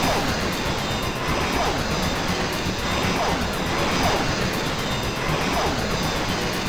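A racer's engine screaming in the DOS video game Slipstream 5000 near Hoover Bank, a loud sustained roaring drone with a pulsing rhythm and no talk.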